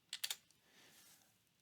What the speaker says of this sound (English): I'm going to do Control B on the keyboard.